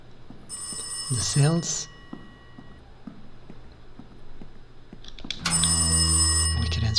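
A telephone rings in the horror game Rise of Insanity, bright trilling bursts with a sustained electronic tone, heard twice with a quiet gap between, while someone talks over the first ring.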